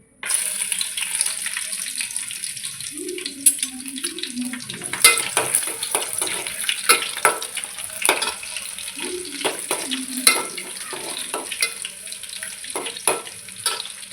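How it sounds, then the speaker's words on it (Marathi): Garlic sizzling in hot oil for a Maharashtrian kalvan curry, a steady hiss broken by sharp crackles and clinks of a spoon stirring the pan, heard up close with no talking. "आपलं तेल तापलेलं आहे, तर पहिल्यांदा आपण त्याच्यामध्ये टाकणार आहोत लसूण."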